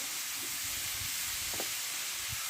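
Ground spices with cumin, coriander, chili and turmeric powders frying in a pan for a mung dal and ash gourd ghonto, a steady broadband sizzle with a few soft stirring scrapes, continuous and fairly close.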